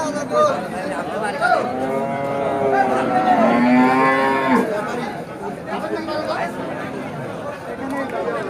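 A heifer calf of a Sahiwal cross, a little over a year old, gives a long mooing call at a busy cattle market, with crowd chatter and people talking throughout.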